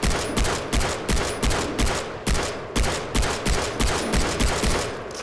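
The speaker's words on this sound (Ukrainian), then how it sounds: "Я йому обойму в голову зарядив і він навіть не спів до мене підбігти" Rapid bursts of automatic gunfire in Far Cry 3, loud and close, repeating in a steady rattling rhythm throughout with game-like sharp cracks.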